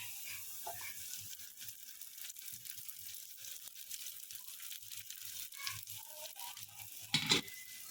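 Soaked sabudana tapioca pearls land on cooked potatoes in a hot pan, giving a faint, steady sizzle and frying hiss with soft scraping stirs and a brief louder clatter near the end, with no voices.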